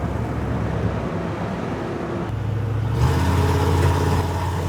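An engine fitted with an oversized carburetor drones at a steady rumble, then revs up to a higher, louder pitch and holds there.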